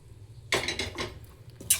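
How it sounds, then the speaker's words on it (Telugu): Pre-boiled mutton keema tipped into a cooking pot for dum biryani, giving a few soft wet thuds and a clink of utensil against the pot, close and brief with no talk. "ఇప్పుడు దీని మనం ముందుగా ఉడకబెట్టుకున్న కీమా అయితే వేసేస్తున్నాను."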